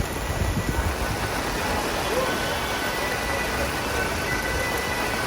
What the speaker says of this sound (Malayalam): ഇവിടെ പൊരിഞ്ഞ മഴയാണ്